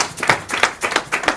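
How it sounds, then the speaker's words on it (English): Rhythmic group clapping at a community church service, even beats roughly three per second, close and fairly loud, with no talk over it. "Let's give them a clap."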